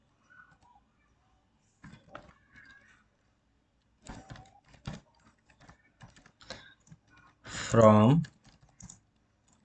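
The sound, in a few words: typing an SQL query on a computer keyboard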